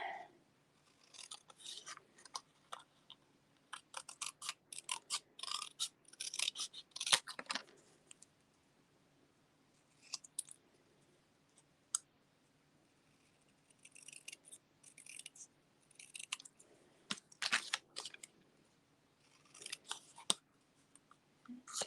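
Scissors cutting paper freehand at a papercraft table, a series of close, quiet snipping and rasping bursts in irregular clusters with short pauses between, no talking.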